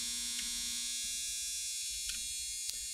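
A home clothes dryer runs with a steady, even electrical hum and buzz, close by and constant throughout, with a few faint clicks on top.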